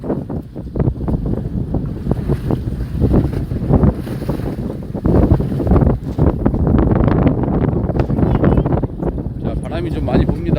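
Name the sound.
strong wind on a fishing boat at sea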